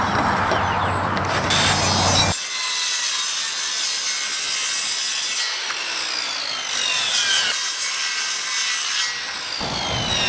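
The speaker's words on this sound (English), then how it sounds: "I like to take and cut 2 pieces of plywood." A hand saw cuts through plywood in steady back-and-forth strokes while triangles are made for a chicken coop cage door. The rasping is loud and close, shifts pitch in a few places and continues without talk.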